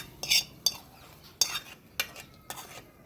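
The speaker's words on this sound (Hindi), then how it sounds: "टमाटर को थोड़ा थोड़ा मैश कर लेंगे और इसमें दाल में डाल देंगे।" A spoon clinks and scrapes in a pot as tomatoes are mashed and stirred into dal, five or six sharp separate clatters with quiet gaps between them.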